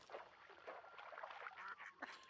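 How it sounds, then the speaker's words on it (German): Ducks quacking in the video game Hunt: Showdown, a dense run of overlapping nasal quacks from a flock nearby, fairly quiet and continuous, with no speech over them. "Guck mal an diese scheiß Enten hier."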